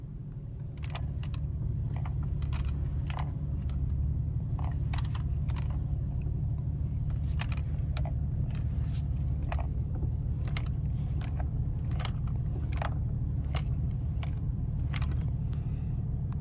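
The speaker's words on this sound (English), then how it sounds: "a strange, annoying little rattle that I've got around the steering wheel" Irregular light clicks and ticks rattle from around the steering wheel of a Porsche 997, scattered over a steady low engine and road rumble inside the car.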